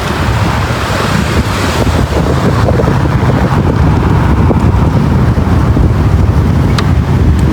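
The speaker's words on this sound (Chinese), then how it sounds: "它还刮风的是吧？" Steady wind buffeting an outdoor microphone, a loud continuous low rumble on a street in Longyan, with no voices over it.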